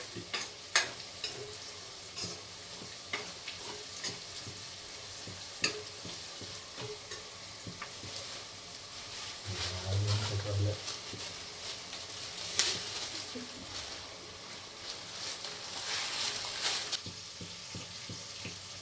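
Onions, garlic and chillies for a chicken fry sizzle quietly in a pan, with frequent spoon clicks and scrapes from stirring and a short, louder watery splash midway.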